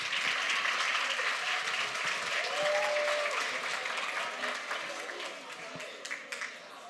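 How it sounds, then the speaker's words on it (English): A conference audience at Sasol TechnoX 2023 claps in sustained applause, loud at first and gradually tapering off, with a bit of chatter mixed in. "You can clap, it's fine."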